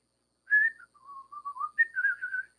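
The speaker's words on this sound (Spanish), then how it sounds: "Y comencemos a silbar" A person whistles a short wandering tune alone, a bright rising note followed by lower sustained tones and then a higher warbling phrase, clear and fairly close.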